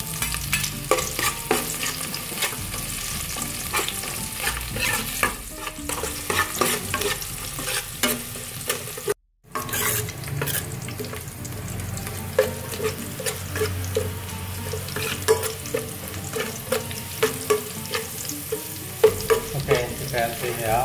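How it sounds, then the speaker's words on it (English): Garlic and chili frying in a pan while being stirred for a Khmer amaranth soup, a loud steady sizzle with repeated scraping stirs throughout and a brief dropout midway, no talking. "And we stir it well, and after that we add chili here."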